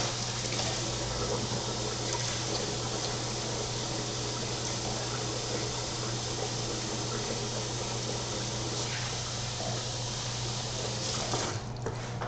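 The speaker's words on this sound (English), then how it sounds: "Wash my hands real quick." Running water from a kitchen tap while hands are rinsed during home baking, a steady broadband splashing rush that continues unbroken and fairly close for the whole stretch, with no talking.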